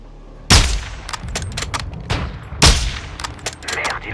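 Two sharp, loud sniper rifle shots in Call of Duty: Modern Warfare II ring out about two seconds apart, each with a booming echo, amid sparse clicks and game noise.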